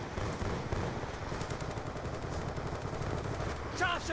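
Dense, continuous automatic gunfire fills a Black Ops 2 multiplayer match, steady and moderately loud throughout with a mix of rapid shots, and game sounds chirp briefly near the end.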